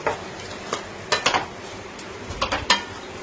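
Fried fish roe being stirred with a ladle in a pan during a Katla roe bhuna, giving a series of irregular scraping, clinking strokes over a faint sizzle, close and alone with no talk.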